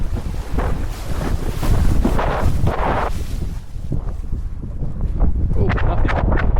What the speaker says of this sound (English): Oh, this gust is pretty quick.